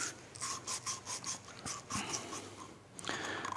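Emery cloth rubs back and forth over the end of a stainless steel pipe being cleaned before brazing, producing a quiet, rhythmic scratchy rasp of about a dozen short strokes.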